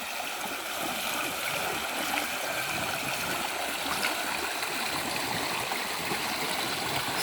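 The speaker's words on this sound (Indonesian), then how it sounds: "Ini kalau kita lihat sungainya begitu adem, begitu indah" A river in Borneo flows with a continuous broadband rush and gurgle, steady and fairly close, with no voices over it.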